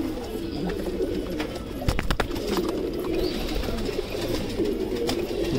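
Soft pigeon cooing in low, rounded notes over an outdoor background of steady hum and light breeze, with no talking.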